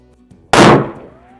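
A single Smith & Wesson .500 Magnum revolver shot fired at close range outdoors, a sudden loud blast with a short ringing decay, heard alone.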